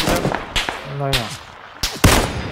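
Gunfire in the battle royale game PUBG: Battlegrounds, sharp broadband cracks, a few close shots plus a louder burst near the end, heard amid talk between players.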